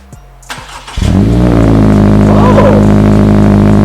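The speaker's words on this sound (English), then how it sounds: "See how she sounds. All right. Yeah, start her up, Brendan." A 2021 Subaru Crosstrek engine with an aftermarket exhaust cranks and catches, then settles into a loud, throaty idle with a deep rumbling exhaust, close by.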